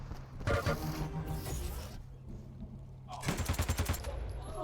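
Rocket and weapon fire in a Quake match at a KeenCon 2023 tournament in Barcelona: a burst of rapid gunfire, then a second quick train of repeated shots, with game noise throughout.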